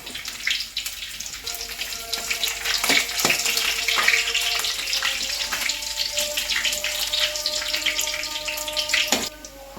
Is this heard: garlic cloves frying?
yes